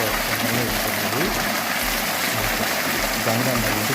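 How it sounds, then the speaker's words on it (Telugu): Constantly flowing stream at the Punyagiri temple, a continuous rushing and gurgling of water, fairly loud and close, with a low rhythmic throb running beneath it throughout. "ఎప్పుడు వాటర్ వస్తూనే ఉంటుంది."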